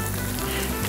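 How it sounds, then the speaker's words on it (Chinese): A thick meat patty fries in a pan while it sets its shape, giving a steady, close, even sizzle that runs through the whole short moment with no talking. "好，煎肉饼。 哎，好，我们让它煎一下，要让它定型。"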